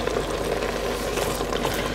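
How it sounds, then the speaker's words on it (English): Apples gently simmering in a pan for a crumble, a steady, close bubbling sizzle that stays even throughout with no talk. "That's them gently simmering, yes."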